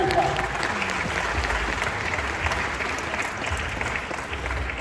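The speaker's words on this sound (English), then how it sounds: "Give yourself a hand clap." An audience of young people on a motivational school tour applauds themselves, a continuous crowd clapping wash with faint murmuring voices beneath, steady and moderately loud from start to finish.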